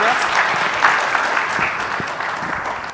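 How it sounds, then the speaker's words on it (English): An audience claps after a conference presentation on AI technology: brisk, continuous applause with a few sharper individual claps, fairly loud and close throughout. "give applause to Mr. Aulia Rahman"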